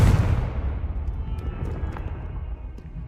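Confringo blasting spell in Hogwarts Legacy, a sharp booming explosion that bursts loudly at the start and then trails off into a long rumbling decay with scattered faint crackles.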